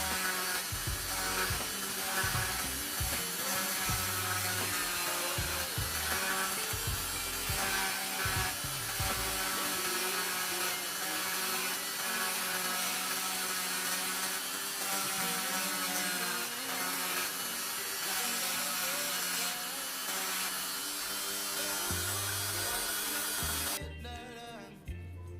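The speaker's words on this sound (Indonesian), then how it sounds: "saya menggunakan tuner ya untuk menggerinda plat L ini" A die grinder works the edge of a small L-shaped metal plate for a Sharp Tiger air rifle trigger, giving a continuous, bright, high-pitched grinding whine that runs steadily and cuts off just before the end.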